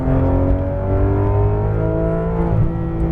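A Porsche 991.2 GT3 RS engine pulls hard under full throttle out of a corner on a racetrack, a loud rising howl heard from inside the car, steady and continuous.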